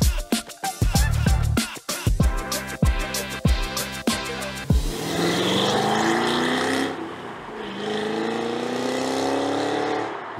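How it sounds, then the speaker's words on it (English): Supercharged V8 of a Cadillac CT5-V Blackwing with 668 horsepower and a six-speed manual, blipped in a rapid series of loud, sharp revs, then held in a sustained roar that climbs steadily through the gears, close and dominant. "That's the sound of 668 horsepower and 659 pounds of torque."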